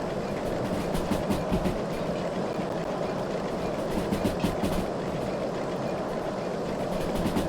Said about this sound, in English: the train is continuing to accelerate from the sounds of things